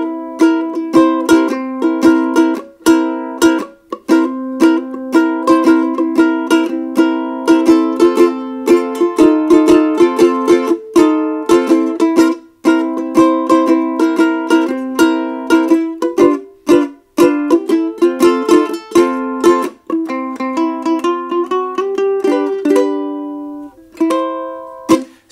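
A 12-bar blues is strummed and picked on an Ortega ukulele, with steady rhythmic chord strums and plucked notes continuing for about 25 seconds, played solo and close with no voices.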